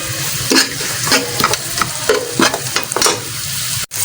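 Ingredients for kadhi pakora being sautéed and stirred in a pan, with a steady frying hiss broken by repeated scraping stir strokes, close and fairly loud, with no talk.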